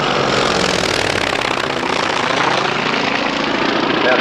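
A Polikarpov I-16 fighter with a 1,000 hp nine-cylinder radial engine roars by at close range, a loud, steady, throbbing propeller drone that holds level throughout.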